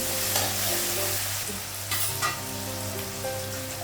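Onions with ginger paste, garlic paste, cumin and chili powder sizzle steadily in a pan, with a few louder spoon-stirring scrapes breaking through the continuous frying hiss.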